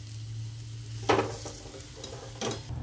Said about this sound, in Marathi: आता हे बटाटे असे काढून घेणार आहे आणि हिरवी मिरची तळून घेणार आहे